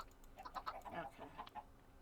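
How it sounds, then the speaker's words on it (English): Chickens clucking, a quick run of soft, close clucks and short calls over about two seconds, faint and alone without talk. "Come here, chickens."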